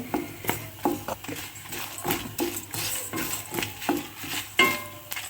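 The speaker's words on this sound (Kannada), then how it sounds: "ಮೆಣಸೆಲ್ಲ ಕ್ರಿಸ್ಪಿ ಆಗೋವರೆಗೆ ಹುರಿಬೇಕು" Chillies frying in a pan until crispy, a soft sizzle beneath repeated knocks and scrapes of a spoon stirring against the metal, close up and irregular in rhythm, with no talk.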